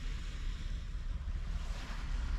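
Sea waves wash steadily on the shore at Larne, County Antrim, with broadband surf noise and gusty wind buffeting close by throughout, no voices.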